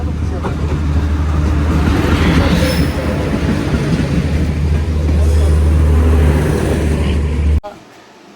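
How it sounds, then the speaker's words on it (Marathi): A passenger train arriving rumbles loudly and steadily nearby, low heavy wheel noise filling the scene for several seconds before cutting off abruptly. "आम्हाला ट्रेन आली आहे"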